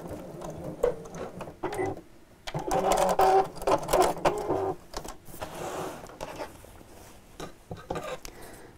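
A sewing machine stitches straight across a zipped tote bag seam close to the edge, running in several bursts with short pauses between, moderately loud and near.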